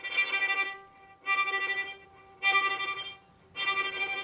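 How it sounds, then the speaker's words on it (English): Bowed violin played sul ponticello, near the bridge, with four sustained glassy, overtone-rich strokes separated by short gaps. Each stroke is moderately loud and close, and no voices are present. "is sul ponticello, which is going to the bridge."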